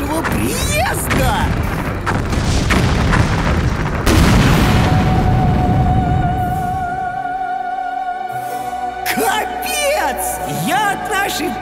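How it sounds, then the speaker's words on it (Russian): Deep booms and crackling blasts from an ammunition depot detonating, heard from a car on the road to Crimea, rumble at a distance while people talk over them. "Походу, очередной склад детонирует!"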